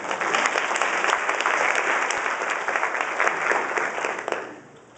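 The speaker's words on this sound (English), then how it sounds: "can we give them a little round of applause" Applause from the audience at the opening ceremony of the 2008 International Space Camp, a dense, continuous wash of many hands clapping that holds steady and then drops off sharply near the end.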